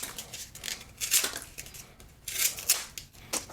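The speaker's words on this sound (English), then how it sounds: "It is cutting that cardboard like nobody's business." A Lothar Lich King thick everyday-carry knife blade slicing cardboard, a few quick rasping cuts with short scraping strokes, close and moderately loud, no talk.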